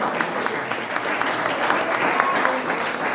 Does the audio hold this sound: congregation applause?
yes